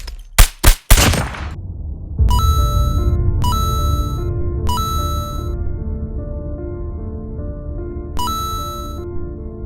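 Rifle gunfire from the SKS and battle rifles in the mobile shooter Call of Duty Mobile: a quick rapid burst of loud, sharp shots at the start, then ringing tonal game sounds and chimes that recur over a steady background.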